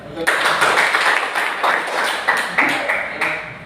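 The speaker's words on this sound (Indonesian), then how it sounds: "Ya, tepuk tangan." Classroom of vocational students clapping their hands together, a burst of fairly loud, close claps with uneven rhythm lasting a few seconds.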